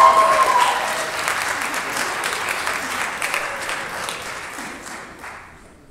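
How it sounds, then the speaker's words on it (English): Audience applause after jazz solos at a celebration performance, a dense, steady wash of clapping that is loud at first and gradually fades toward the end. "It is definitely appropriate to applaud when they're done soloing."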